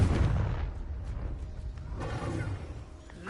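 Confringo fire spell blast in Hogwarts Legacy on PS5: a heavy booming burst with a whooshing, rumbling tail, loud at first and then fading into lower rumble.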